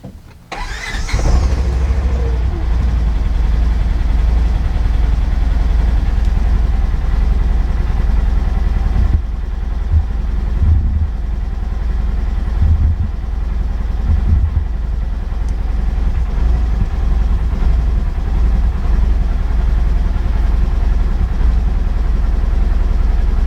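A Polaris Ranger utility vehicle's engine cranks briefly and catches, then settles into a steady, loud, low idle that holds for the rest of the time with slight fluctuations, close by.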